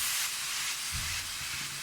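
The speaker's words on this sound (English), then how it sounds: "I also have 2 downlifters that are in the drop" Two downlifter effects in a progressive house drop, a broad hissing noise sweep with a low rumble swelling beneath, steady and fairly quiet, with no voices.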